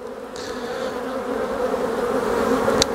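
Honey bees buzzing over a hive frame during a disease inspection, a dense, steady close hum that swells slightly, with a faint brief tap near the end.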